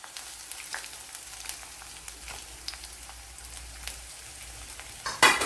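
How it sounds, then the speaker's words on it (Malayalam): Garlic cloves and a small piece of ginger sizzle quietly in hot coconut oil, a soft steady frying crackle, with a sharper burst of sizzling near the end. "ഇവിടെ വെളിച്ചെണ്ണ ഒഴിച്ചു കൊടുത്തിട്ടുണ്ട്. അതിലേക്ക് ഇനി ഒരു 7-8 വെളുത്തുള്ളി ഇട്ട് കൊടുക്കാം."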